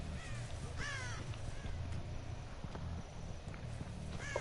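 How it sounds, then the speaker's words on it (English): Crow cawing in the video game Dead by Daylight, a few harsh caws early on, heard faintly over quiet footsteps and ambient game noise. "Crow's moved"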